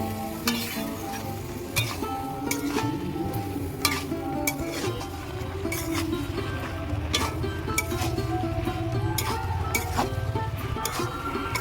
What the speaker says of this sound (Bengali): এবার আমি কিছুক্ষণ এইভাবে কষিয়ে নেবো